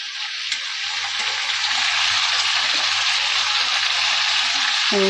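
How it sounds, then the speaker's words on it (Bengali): Chopped onion sizzles loudly in a hot pan of oil while a chicken dish is being cooked, a steady, close, continuous hiss that holds throughout with only faint clicks and stirring underneath. "এবার দিয়ে দিচ্ছি পেঁয়াজ কুচি সেটাও দিয়ে দিলাম"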